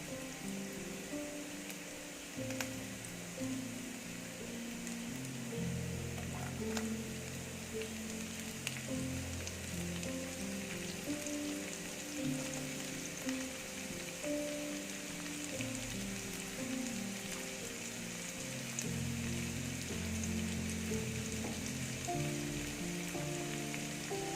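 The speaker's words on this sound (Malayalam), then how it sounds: "ഇനി നമുക്ക് സവാള ഇട്ട് കൊടുക്കാം." Onions fry in a pan with ginger and garlic, a steady close sizzle with irregular crackles and occasional stirring scrapes running throughout.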